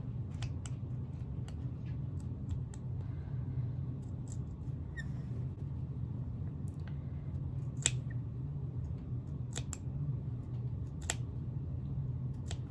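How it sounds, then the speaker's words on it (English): Spring-loaded scissors snipping through a fabric quilt handle: a series of sharp, close, irregularly spaced clicks and snips over a low steady room hum, with no talking. "I'm just going to snip the inside of the handle."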